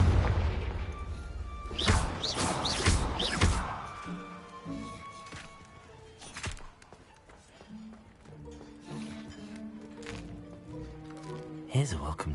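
Confringo fire spell in Hogwarts Legacy erupts with a loud, close boom and crackling blast in the first few seconds, then fades into quieter game ambience while someone talks.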